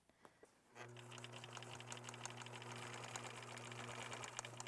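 A sewing machine stitches a pillowcase seam beside an earlier line of stitching, running as a steady, fairly quiet motor hum with fast needle ticking after a short pause at the start.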